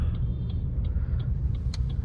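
A Grand Vitara rolls in slowly, a steady low engine and road rumble holding throughout with faint ticking clicks repeating over it, no voices.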